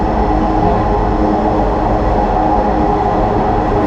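A Bangladesh metro rail train runs with a steady, loud rumble and hum from inside the carriage, continuous and unbroken with no voices.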